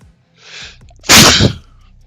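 A single sharp sneeze, preceded by a quick inhale, loud and close with no talk over it.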